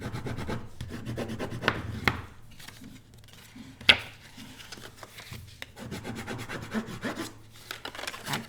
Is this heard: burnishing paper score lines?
yes